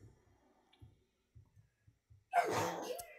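A single sharp sneeze bursts out suddenly near the end, loud and close after a stretch of quiet low clicks and faint background sounds.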